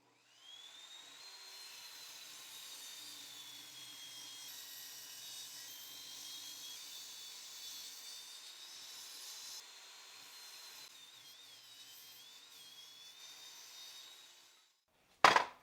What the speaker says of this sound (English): I'll make cuts on both sides to remove imperfections and straighten the edges.